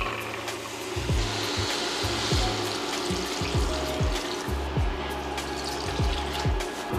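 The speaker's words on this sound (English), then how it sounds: "Now we're gonna add our beans and then we're gonna add our water." Water pours steadily into a pot of rinsed red beans for a Louisiana-style dish, a loud continuous rushing splash close by, with some low bumping knocks beneath it.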